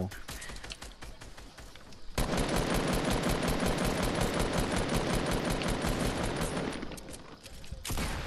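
Automatic weapons fire in Fortnite tearing apart a trap: scattered shots at first, then a loud, unbroken stream of rapid gunfire that runs for about five seconds before thinning out near the end.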